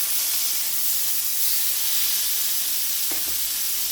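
Pork chops fry fat side down in a pan, giving a loud, steady sizzling hiss close to the ear with a couple of brief low bumps near the end.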